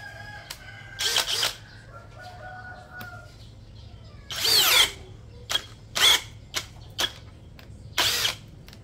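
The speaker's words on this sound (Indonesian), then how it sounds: "Kita naikkan bebannya menggunakan mata bor auger 19 mm. Tetap pada kecepatan nomor 2, modenya mode drilling" A cordless brushless impact drill in drilling mode at speed 2 bores with a 19 mm auger bit in several short, loud, whining bursts separated by pauses, while a rooster crows faintly in the background.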